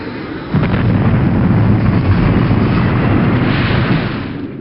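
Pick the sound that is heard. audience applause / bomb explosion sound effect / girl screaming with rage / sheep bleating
bomb explosion sound effect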